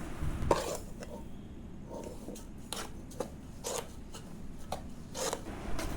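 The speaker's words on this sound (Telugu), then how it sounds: "మనం ముందుగా తయారు చేసుకున్న రవ్వ మిశ్రమాన్ని ఈ సిరప్లో వేస్తూ కలుపుతూ ఉండాలి." Semolina mixture being stirred into sugar syrup in a pan, with repeated scraping and rubbing strokes of a spoon against the metal, soft and close, in an irregular rhythm without speech.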